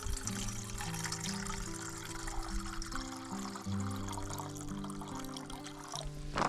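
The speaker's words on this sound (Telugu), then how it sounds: "ఈ ప్యాన్లోకి వాటర్ వేస్తా" Water pours steadily into a metal pan on a camping stove at a campsite in Himachal Pradesh, with a continuous splashing trickle and faint clinks near the end.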